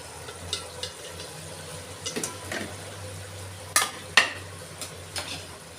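Par-cooked rice goes into a pot of hot oil for keema biryani, with soft sizzling under scattered scraping and clinking of a utensil against the pot, including a few sharper knocks.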